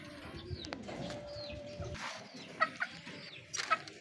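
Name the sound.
young pigeons in a breeder's loft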